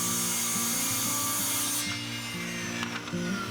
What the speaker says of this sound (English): So here I'm just breaking that down using a circular saw and a straight edge.